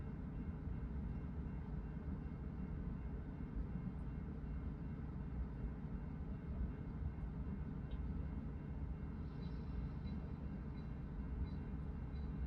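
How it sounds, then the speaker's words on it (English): A continuous low rumble of an NJ Transit commuter train rolling past at a distance, steady and fairly faint throughout. "This is a NJ Transit commuter train."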